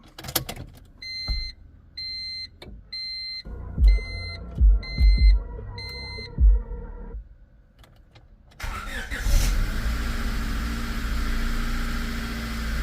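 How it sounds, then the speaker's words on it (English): A 1999 Honda Civic cycling its ignition after a fuel filter change: a series of faint electronic beeps and soft clicks as the fuel pump primes, then the engine cranks and catches into a steady close idle. "you can hear your pump coming on and priming right now"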